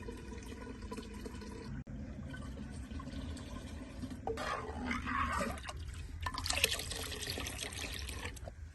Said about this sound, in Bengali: এখন হাঁড়িতে দিয়ে দিচ্ছি দুধ